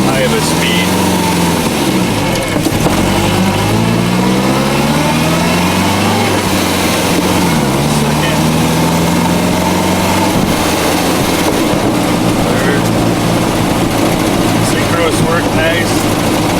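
An MGA sports car engine running and shifting up through the gears, revs rising and dropping between shifts, loud and close throughout with someone talking over it.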